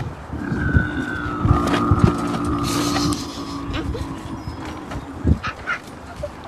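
A person vocally imitates the deep growl of a crocodilian, a low sustained rumbling tone lasting a few seconds, followed by a few short bursts of speech-like sound.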